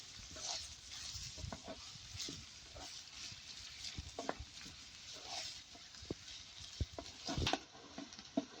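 Chopped onions roasting in a pan for baingan bharta, with soft continuous sizzling and irregular scraping, tapping stirs of a spoon against the pan, close and quiet with no talking.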